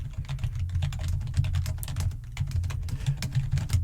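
Fast, steady typing on a computer keyboard fills the recording with dense, close-up clicks, set within a dragon job interview roleplay, with no voices.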